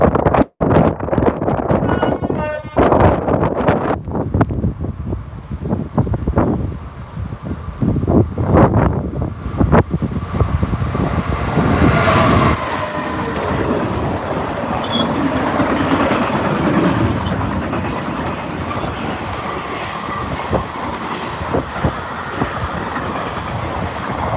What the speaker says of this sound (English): here comes a freight train. This is 6713 Donnersmore to Ditton